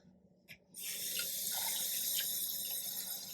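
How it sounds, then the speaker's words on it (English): A bathroom tap is turned on with a faint click and then runs steadily into a sink while hands are wetted for face washing, a close, even splashing flow with no talk. "And then I will just wet my hands a little bit."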